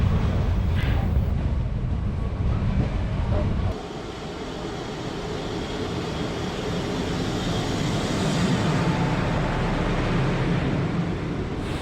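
A passenger train bound for Shoranur passes Angadipuram station on the electrified Shoranur–Nilambur line, a loud continuous rumble and rolling roar that eases slightly partway through but stays strong and close throughout.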